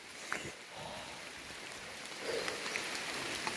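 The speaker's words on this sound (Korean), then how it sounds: "비가 너무 많이 옵니다." Heavy rain pours down on a mountain slope during an autumn mushroom-foraging hike, a constant soft hiss of drops on leaves and ground with a few sharper taps, and no one speaking.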